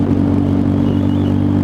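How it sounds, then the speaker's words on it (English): A Triumph Bonneville motorcycle's exhaust drones steadily and loudly at close range, a continuous throaty rumble with no voices. "I love about this bike is the sound of the exhaust."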